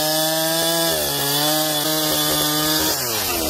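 A Husqvarna 365 chainsaw cuts through a log of acacia wood, running loud and close at a steady high-revving whine that dips slightly under load, continuous throughout with no voices.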